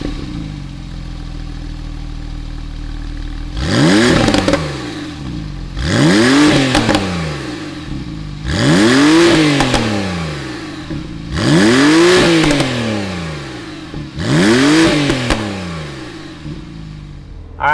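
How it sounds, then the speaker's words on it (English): A 2018 Porsche 911 4S with about 4,200 miles settles into a low idle, then revs sharply five times in a steady rhythm, each bark of the engine climbing and falling back to idle, loud and close. "why don't we go ahead, fire up this 911 and see what it sounds like"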